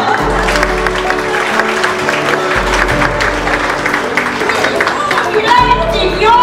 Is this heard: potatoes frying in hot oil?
no